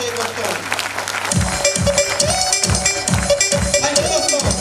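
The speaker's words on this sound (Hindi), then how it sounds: "एक बार फिर से जोरदार और धमाकेदार तालियों से दोस्तों" Applause from an audience with rhythmic clapping and cheering in a loud hall, steady and sustained over music-like background noise.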